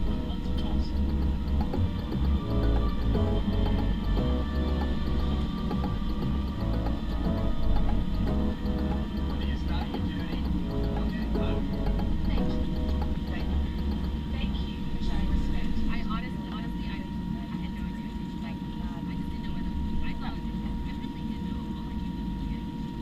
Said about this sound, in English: Now please enjoy this unedited takeoff footage.